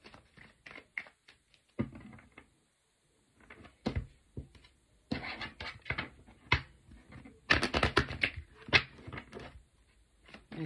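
Oracle cards shuffled by hand in brisk bursts of papery flicks and slaps, close and fairly quiet, with short pauses between rounds.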